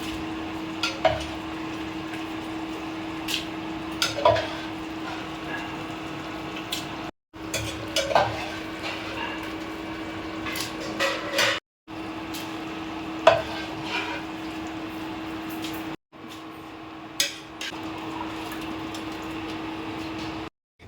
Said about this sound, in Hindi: देखिए पूरे चने को मसालों के साथ मिक्स कर दिया है।